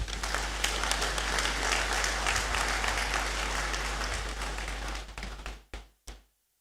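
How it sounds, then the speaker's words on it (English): Loud, sustained audience applause at a university congregation (graduation) ceremony, a dense wash of many hands clapping that fades out over the last second and ends in a few scattered final claps. "I will ask for a big clap for Pro-Vice Chancellor once again."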